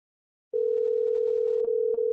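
Loud, continuous telephone dial tone that begins suddenly after brief silence and drones on steadily, with a couple of tiny dips near the end and no voices over it.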